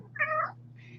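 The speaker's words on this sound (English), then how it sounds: "I love the fact that cats don't meow unless they're with humans" Domestic cat meowing indoors, one clear drawn-out meow followed by a shorter, fainter second call over a low steady hum.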